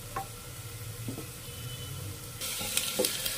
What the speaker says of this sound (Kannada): ಪಟ ಪಟ ಪಟ ಅಂತಾಡಿ ಜಿಂಜರ್ ಹಾಕಿದ್ದಕ್ಕೆ ಜಿಂಜರ್ ಗಾರ್ಲಿಕ್ ಪೇಸ್ಟ್ ಹಾಕಿರೋದ್ರಿಂದ